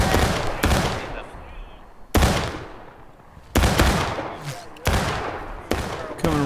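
Rifle volleys crack out in the Civil War video game War of Rights, a sharp massed blast about every one to one and a half seconds, each loud and close with a rolling echo tail, faint voices beneath.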